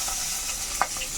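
Katla and rui fish head pieces fry in hot oil, a steady close sizzle with one brief pop or stir near the end.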